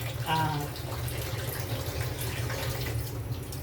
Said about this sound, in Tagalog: pakulo na tayo ng tubig dito sa kawali